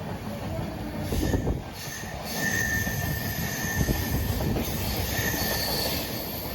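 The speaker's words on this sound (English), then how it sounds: "my train is passing through the beautiful western ghats of Maharashtra right now." A passenger train rolls steadily through the Western Ghats of Maharashtra with a constant rumble, rattling carriages and a thin high wheel squeal, heard from on board.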